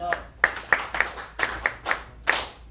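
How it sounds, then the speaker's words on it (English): Scattered claps at a youth public policy analysis training session in West Nile, about eight distinct hand strikes in an uneven rhythm, close and fairly sharp, with no voices. "You can clap for me"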